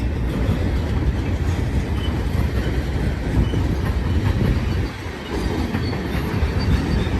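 A Union Pacific manifest freight train of gondolas and coil cars, including old Missouri Pacific cars, rolls past at Cajon Pass with a steady, loud, continuous rumble and rail clatter throughout, dipping briefly near the end.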